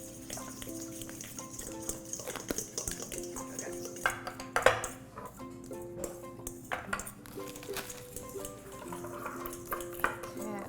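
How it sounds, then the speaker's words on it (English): A fork clinks and scrapes against a bowl while paprika and spices are stirred together, a series of light metallic taps and rattles over a soft background hum, close and fairly quiet. "then we will just mix it up with your fork so it's all the spices"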